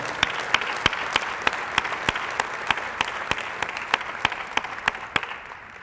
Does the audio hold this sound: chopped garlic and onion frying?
no